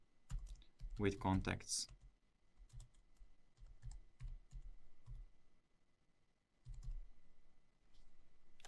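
Keys on a computer keyboard click in short scattered bursts while someone talks through setting up a tree view in a software interface, the typing faint and intermittent beneath and between his speech.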